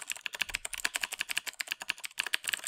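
Fast typing on a Daz mechanical keyboard, with crisp tactile key clicks in a quick, uneven rhythm, close and clear with no voices over it.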